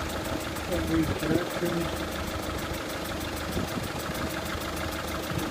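A Citroen Picasso 1.6 diesel engine runs with a steady, close, clattering idle, while someone talks over it throughout.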